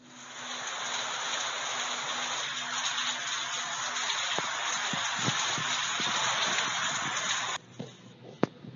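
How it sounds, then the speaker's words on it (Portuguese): Steady hiss of rain falling and pattering on a surface, filling the clip at a constant level with scattered sharper drips, then dropping off suddenly near the end. "Chuva."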